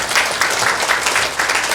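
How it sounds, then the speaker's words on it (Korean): A youth conference audience in Busan claps together, a loud, close burst of applause pulsing in a rough rhythm over a short span. "우리 청년분들께서 박수 한번 치는 걸로 마무리하도록 하겠습니다"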